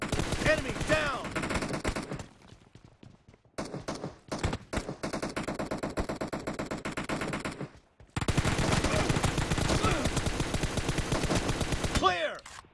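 Rapid automatic gunfire in a shooting video game, loud, close bursts of machine-gun fire separated by short pauses, with a game voice faintly in the mix.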